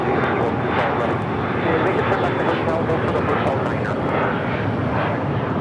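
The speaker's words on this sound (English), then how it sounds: "the EVA Air 777 making that left-hand turn onto Bravo for a Southside departure" EVA Air Boeing 777 taxis and turns onto a taxiway at a large airport, a continuous loud engine roar and hiss, with someone talking over it.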